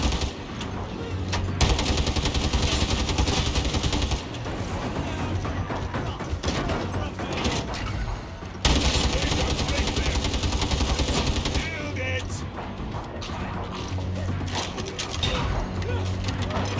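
Rapid automatic gunfire in the video game Darktide, dense sustained bursts with mechanical clatter filling a hallway fight, loud and nearly continuous with a brief break midway, mixed with game music and effects.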